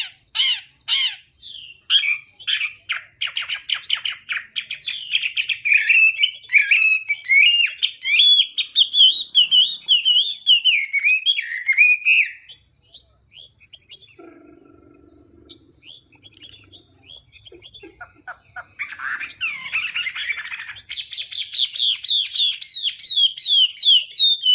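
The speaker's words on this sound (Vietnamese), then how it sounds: "Hiện tại thì mình đang quay cho các bạn xem con họa mi" A Chinese hwamei songbird sings loud, close, rapid warbling phrases and whistles, pausing midway with a quieter stretch and a few low sounds before bursting back into fast, bright song; no talking.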